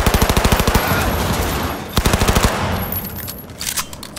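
Loud, close automatic gunfire in Cyberpunk 2077 rattles out in rapid, evenly spaced bursts, a stuttering machine-gun stream that breaks off, returns in a second burst, then fades into scattered shots.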